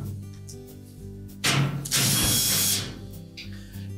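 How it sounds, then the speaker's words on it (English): A power driver backs 1/4-inch hex head screws out of the back panel of a Whirlpool dryer, one loud whirring burst of about a second and a half, close up, with no talk. "Just simply remove all of the screws."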